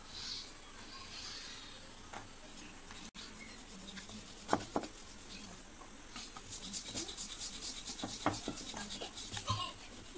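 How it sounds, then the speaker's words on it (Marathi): Bhatura dough is rolled out by hand on a board, giving soft, repeated rubbing and scraping strokes with occasional light knocks, quiet and close, growing busier toward the end. "अशाच प्रकारे मी सगळे भटुरे लाटून घेते"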